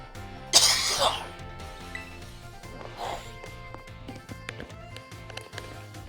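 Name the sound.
throat clearing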